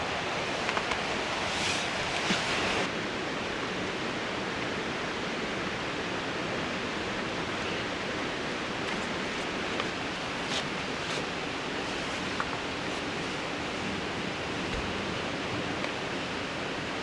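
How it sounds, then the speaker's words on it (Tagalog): Rain pours steadily as a dense, even hiss over a riverside camp at the Mangatarem River, a constant broadband wash with a few faint knocks and no voices. "At sa kasamang palad, umuulan na naman."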